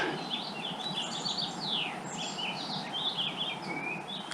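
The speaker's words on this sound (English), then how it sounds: "Listen to the birds." Several birds chirp and twitter in quick overlapping phrases in a snowy winter forest in the White Mountains, against a steady hiss of ambient noise, moderately distant.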